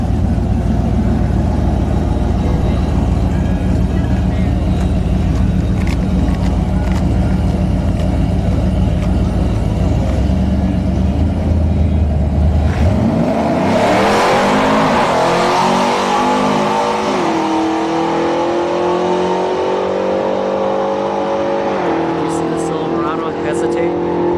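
A first-generation Chevrolet Camaro launches at a drag strip, engine idling and rumbling loudly before it revs hard and accelerates away with rising gear sweeps, while an announcer talks over the noise.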